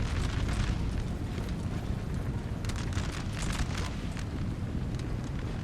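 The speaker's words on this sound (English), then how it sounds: "Got a 6-pounder here. I think they're shooting." Artillery fire from 6-pounder cannons on a Napoleonic battlefield in Napoleon: Total War, a continuous loud rumbling din of booms and bursts with no clear gaps between them.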